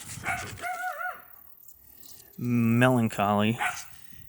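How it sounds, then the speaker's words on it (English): A puppy gives a few short, high yips and barks in two brief bursts, close by and fairly loud, with quiet gaps in between. "Puppy! Oh my gosh."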